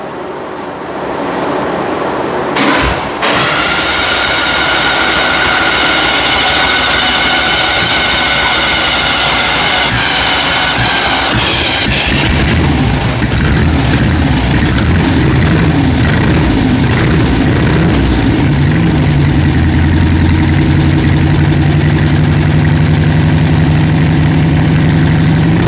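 A 40 HP VW engine fitted to a rat rod truck starts up and runs steadily, a loud, continuous idling rumble with mechanical clatter that fills the whole stretch and grows rougher and heavier partway through.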